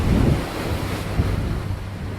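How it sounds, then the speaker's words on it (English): Sea waves surge and break against rocky cliffs on Comino Island, Malta, a steady rushing wash with gusts of wind buffeting the microphone and a brief swell of surf partway through. "listen to the waves crash against the rocks"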